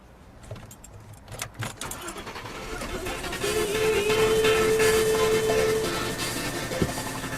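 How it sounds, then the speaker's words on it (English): A car engine cranks and catches, rising into a steady running rumble with a brief whine, alongside some clicks and jangling near the start. "Let's start the car."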